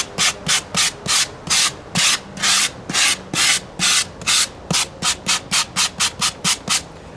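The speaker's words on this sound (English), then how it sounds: "even when I finish this first process of sanding" Hand sanding on the nose of an RC Emirates 777-9X airliner model: close, loud back-and-forth rasping strokes in a steady rhythm, slower at first and quickening toward the end, with no talk.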